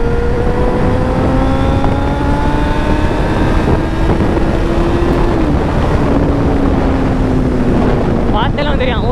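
Kawasaki Z900 motorcycle engine revving and pulling through the gears, a dense steady roar with rising and falling pitch under heavy wind noise, continuous throughout.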